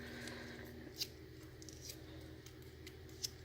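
Scissors snip through paper pieces in short, faint clicks, with a few sharper cuts standing out over a quiet, steady room background.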